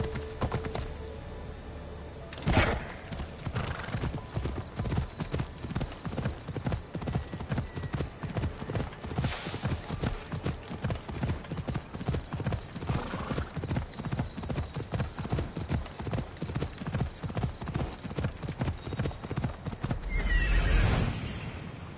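Horse hooves clip-clop at a steady trotting rhythm in Assassin's Creed Odyssey, continuous and close, with a brief whinny near the start and another burst of noise toward the end.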